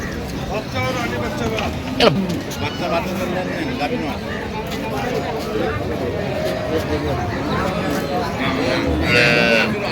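Dairy cows and calves of improved breeds moo repeatedly at a crowded cattle market, several loud close calls rising over a constant background babble of voices and people talking nearby.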